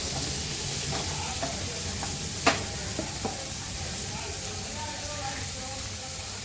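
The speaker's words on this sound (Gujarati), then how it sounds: "હવે આપણે એમાં ટામેટાનો ઉપયોગ કરવાનો છે. તેને પણ મિક્સ કરી લઈશું." Tomatoes being stirred into golden-brown onions frying for dal fry, with a steady close sizzle and a few scraping clicks of a spoon against the pan around the middle.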